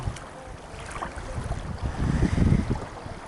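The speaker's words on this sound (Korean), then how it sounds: "바람 때문에 멘트를 할 수가 없어요" Strong wind gusts at a seaside fishing port at Dangam harbor in Taean, buffeting the microphone in a loud low rumble that swells toward the end with no voices.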